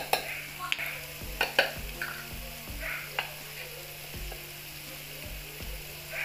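Spices frying and sizzling in a pan for aloo paratha filling, a soft steady sizzle under repeated light knocks and scrapes of a spoon stirring, close by and fairly quiet, with no talk.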